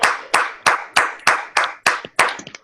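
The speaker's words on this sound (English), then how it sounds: "big round of applause." Applause at a live Six Sigma training session comes as about nine loud, evenly spaced hand claps in a slow, deliberate rhythm, each with a short fading tail, and no talking over them.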